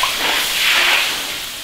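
Meat, trimmed of its membrane and about to be braised, drops into a hot pan with a loud, steady broadband sizzle that swells and then eases slightly. No voices are heard.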